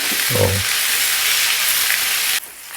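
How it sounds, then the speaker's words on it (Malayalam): Onions sautéing in a pan as the base for a Kerala-style prawn roast, a dense continuous sizzle close to the microphone that drops off sharply near the end, with a brief voice underneath at the start. "ഉള്ളി ഒരു വിധം വഴണ്ടിട്ടോ, ഇനി ഒന്നും കൂടി ആവണം"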